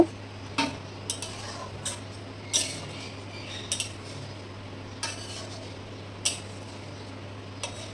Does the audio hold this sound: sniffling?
no